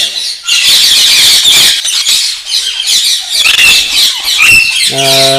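Large ornamental birds at a bird nursery in Namangan squawk and screech loudly and continuously, a dense chorus of overlapping harsh calls close by, with a brief steady tonal note near the end.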